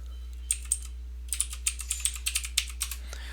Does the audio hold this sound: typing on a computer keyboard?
yes